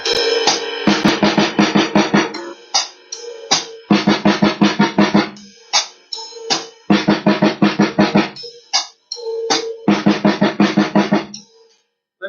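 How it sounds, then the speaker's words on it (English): A drum groove is played on the ride cymbal and hi-hat, with bursts of rapid cymbal strokes and punchy drum hits separated by short gaps, loud and close, repeated in several phrases with no talking. "then we could play the same groove on the ride cymbal and the hi-hat."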